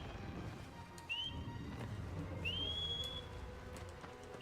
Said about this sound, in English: Let me try to whistle the whole way through.